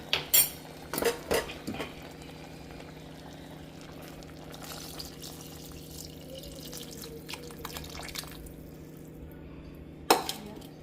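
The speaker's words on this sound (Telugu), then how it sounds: "ఇప్పుడు నేను చింతపండు పులుసు పోసేస్తున్నాను నిండా" Tamarind juice is poured into a cooking pot, a soft liquid pour beneath a low steady bubbling, with sharp metal clinks of utensils at the start and near the end.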